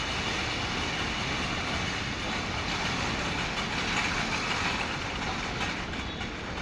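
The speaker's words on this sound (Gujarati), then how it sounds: "એરપોર્ટમાં રેલગાડી આવી" A Rajdhani Express train rumbles past close by, steady clattering of wheels and engine noise filling the whole stretch.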